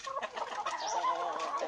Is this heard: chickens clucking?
yes